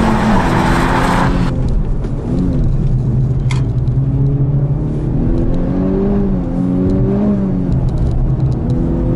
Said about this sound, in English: Engine is just howling, love that.